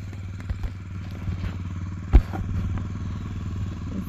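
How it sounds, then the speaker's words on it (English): Motorcycles coming off a trailer: a steady low engine idle runs throughout, with a sharp clank and thump near the middle and a few lighter knocks of metal around it. "just getting the bikes off the trailer"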